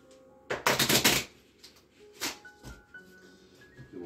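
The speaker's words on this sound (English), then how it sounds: "Now, we'll shuffle the deck again." A deck of playing cards being shuffled during a card trick: a close, rapid riffle burst followed by a few softer snaps and taps as the cards settle.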